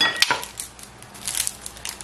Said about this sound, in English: So I'm gonna cut this onion real fast.